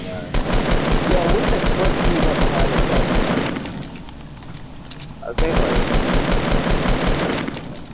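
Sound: semi-automatic rifle gunfire in Fortnite video game

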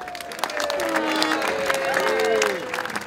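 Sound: applause

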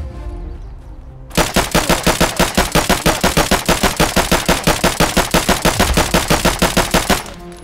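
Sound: gunfire from 84-round magazine, from video game Escape from Tarkov

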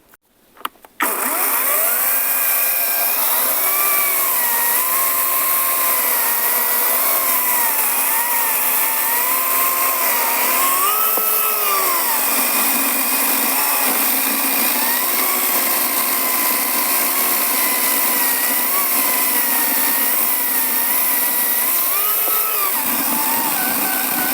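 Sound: Grosser GCS 160 cordless saw running in automatic mode

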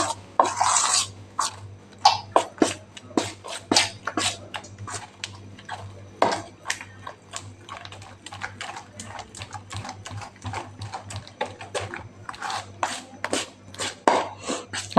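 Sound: mixing batate vada batter while adding it little by little

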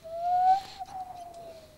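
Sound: voice imitating a midnight owl hooting

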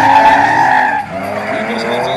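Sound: drift car skidding with tire squeal

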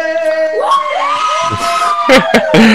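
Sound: wedding guests cheering

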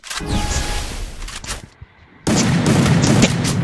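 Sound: gunfire in a shooting video game

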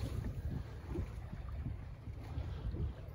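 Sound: sailboat sailing through water with wind

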